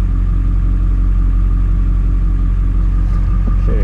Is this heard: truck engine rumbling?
yes